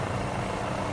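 An MD500E helicopter in Microsoft Flight Simulator 2020 departs with a dense, steady rotor and turbine roar, loud and close, filling the whole short stretch without talk.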